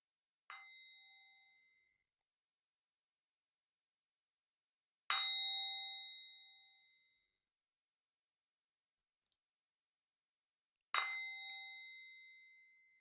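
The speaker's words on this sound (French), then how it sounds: "on va faire 3 petits coups de bol tibétain" A Tibetan singing bowl struck three times, each a clear ringing ding with bright overtones that decays over a couple of seconds, spaced several seconds apart in a quiet room with a tiny click between strikes.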